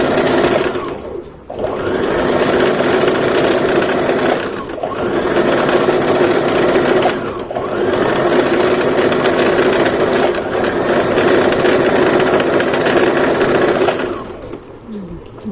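A Brother GS1700 sewing machine stitches a poncha design along a fabric edge, its rapid mechanical whirr running steadily up close, with short pauses between runs.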